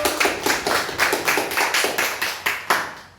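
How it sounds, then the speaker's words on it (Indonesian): Classroom applause for a student group after their presentation, a steady stretch of many hands clapping with rhythmic peaks, close and fairly loud, fading out at the end. "Kita berikan aplaus untuk kelompok 1"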